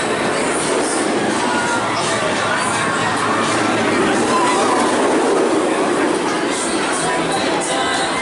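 Banshee, a B&M inverted roller coaster at Kings Island, the tallest, longest and fastest of its kind, roars steadily along its track with a continuous loud rumble and crowd noise.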